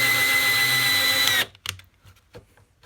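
A close, loud Hyper Tough 20-volt cordless drill whirs steadily for over a second, then stops abruptly, followed by a few faint clicks and knocks.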